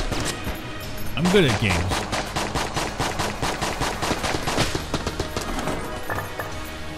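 Rapid gunfire in Enter the Gungeon, a fast, steady stream of sharp shots at close range that runs through most of the clip. Someone talks over the shooting.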